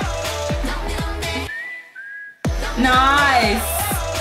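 A clear, bright melodic whistle stands out in a live song performance, held alone for about a second between rhythmic beats and then carrying a wavering tune over the full music.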